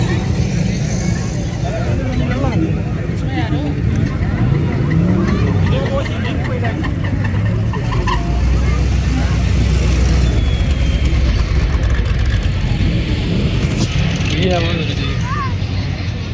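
Vintage car rolling past at an old car exhibition at Frere Hall in Karachi, engine rumble mixed with crowd noise and someone talking over it, with some honks and chatter around.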